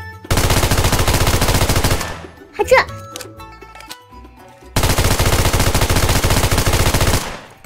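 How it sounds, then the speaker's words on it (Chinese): Two long, loud bursts of rapid automatic gunfire in the shooter game Metro escape, separated by a quieter pause with scattered clicks and a brief voice. "但这时却传来枪声"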